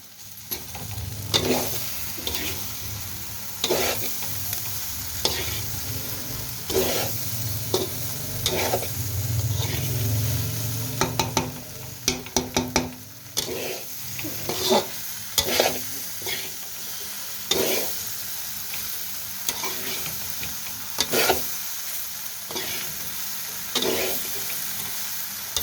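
Okra being stirred into browned masala in a pan for Indian bhindi sabzi, with steady repeated scraping strokes over a continuous sizzle. The strokes come close and regular, and no one speaks.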